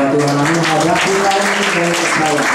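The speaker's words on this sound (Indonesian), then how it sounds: "Tepuk tangan buat Tuhan." Church congregation applauding during a sermon, a steady wash of clapping throughout while a sustained tonal voice or music carries on underneath.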